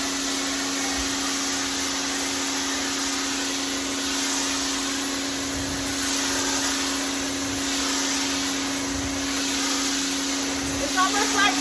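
A pressure washer runs loud and steady close by, its constant motor hum and spray hiss carrying on without a break throughout.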